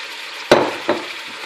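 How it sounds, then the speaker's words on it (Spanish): Chopped onion sautéing in a pan while being stirred: a soft steady sizzle broken by two sharp scraping stirs, close up, with no talking. "Y seguimos moviendo. Así que dejamos también a rehogar unos minutos más hasta que se blanda la cebolla"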